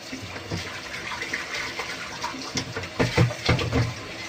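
Duck meat being rinsed under a running tap, giving soft splashing and intermittent gurgling water that swells in bursts toward the end, close and moderately quiet.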